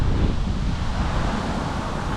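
Strong wind buffeting and rumbling across the microphone in a constant low roar, loud and close, with no voices.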